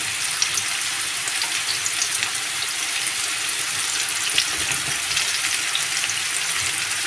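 Thinly sliced medium onion frying in oil for potol vaji, a continuous dense sizzle with occasional light crackles, close and even throughout, with no talking.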